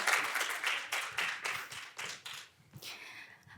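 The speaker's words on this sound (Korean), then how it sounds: "박수 부탁드립니다" A small group claps in a short burst of applause at an agricultural drone lecture contest, with a few distinct clap rhythms before it fades out.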